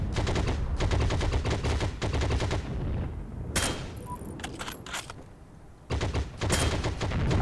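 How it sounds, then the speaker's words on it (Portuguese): Automatic gunfire in the online shooter Heroes & Generals, with a vehicle arriving to strafe a house; several loud rapid bursts of machine gun fire, broken by short pauses and scattered single shots. "Chegou um carro agora pra metralhar a casa."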